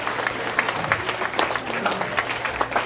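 Applause from a teen conference audience, dense continuous clapping at moderate volume, steady through the short stretch with some crowd noise and voices mixed in.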